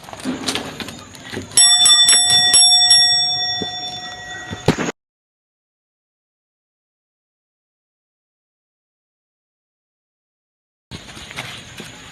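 A bell at the entrance of Living Gifts Nursery in Benguet rings with a bright, sustained metallic tone over outdoor background noise, then the sound cuts to silence before ambient noise returns.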